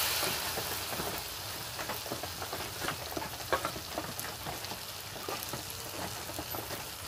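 Jackfruit malpua batter deep-fries in oil, giving a soft, irregular crackling and popping patter over a faint hiss, fairly quiet and close.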